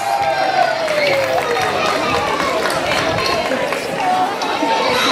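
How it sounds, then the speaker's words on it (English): A crowd applauds a costumed child at a school word parade, the clapping a dense, continuous wash at moderate loudness with voices mixed in. "Give them a round of applause."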